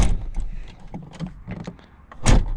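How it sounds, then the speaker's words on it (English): Door handle of a 1992 Volvo 940 2.3 8v (red block) pulled open by hand: soft plastic clicks and rustling, then a single loud close-up latch clunk near the end, with no talking. "a very interesting door handle that you just pull like this, like that,"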